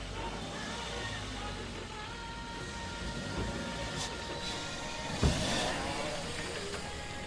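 A car drives along with a steady, even road and engine drone that fills the whole stretch, plus a brief louder knock near the end and no voices.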